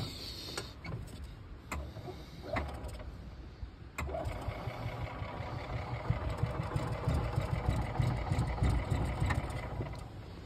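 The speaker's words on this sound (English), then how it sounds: "And this is what the engine sounds like." A golf cart's small engine cranks with a few sharp starter bursts, then catches and runs at a low, rough, steady idle, moderately close and fairly quiet.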